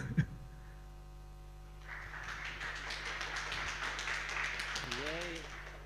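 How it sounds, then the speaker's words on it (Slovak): Applause from a conference audience after a talk on distributed systems at a PHP event: a broad, steady crackle of many hands clapping that swells after a quiet start and continues for several seconds in a hall. "Ohlusujúci potlesk"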